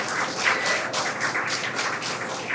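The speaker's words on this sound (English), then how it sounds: "The crowd here at Mission Control in Hawthorne cheering." A crowd at SpaceX Mission Control in Hawthorne applauds and cheers, a dense patter of clapping that pulses in waves, fairly near and sustained throughout.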